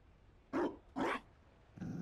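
A dog in the video game Dragon Age Inquisition gives two loud, close barks in quick succession, followed by a low growl.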